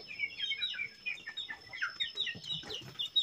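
Chickens in a backyard coop cluck and chirp in quick, overlapping bursts, close by and fairly soft, with no voices.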